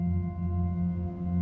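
Soundiron Harmonic Tides ambience 1 synth pad played soloed, a steady sustained drone of layered low harmonic tones with a gentle shimmer, even and unbroken throughout with no voices.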